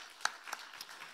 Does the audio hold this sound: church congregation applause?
yes